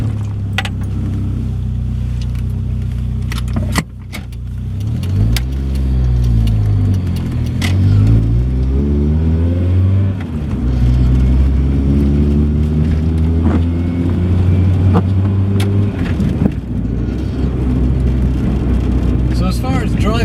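A Triumph Acclaim car on the road, engine note climbing and falling through gear changes with continuous road and tyre rumble, heard from inside the car; a voice talks over parts of it.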